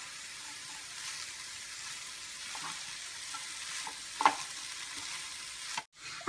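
Chicken masala frying in a pan with capsicum and curry leaves, stirred steadily: a soft continuous sizzle with faint scraping strokes and one sharper clink of the spoon near the end, no voices.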